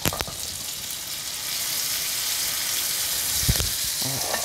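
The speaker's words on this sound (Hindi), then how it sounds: "इस बार इन्हें इसी साइड हल्का हल्का मैं अपने मसाले को भून लेती हूँ" Yogurt-based masala frying in a pan alongside onions, a continuous close sizzle that grows slightly louder midway, with a brief clatter near the end.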